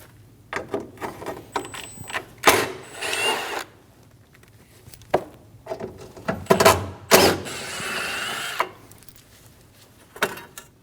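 A wrench takes bolts off a Volkswagen Passat headlight bracket, making intermittent close clicks, ratcheting and metallic scrapes separated by short pauses.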